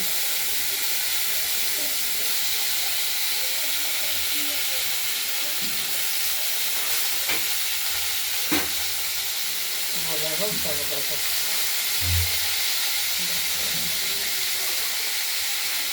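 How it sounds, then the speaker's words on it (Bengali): Cut flat beans and potatoes fry in hot oil with a spice tempering for a katla fish curry, a steady broad hiss of sizzling with a few faint clinks and thumps from the pan. "আর কেটে রাখা শিম ও আলুগুলো এই ফোড়নের সঙ্গে আমরা ভেজে নেব"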